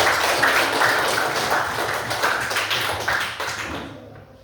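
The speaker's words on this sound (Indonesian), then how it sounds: "Jadi kita beri aplaus dulu kita semua." An audience at a school event breaks into dense, sustained applause that stays loud for several seconds and then quickly fades out.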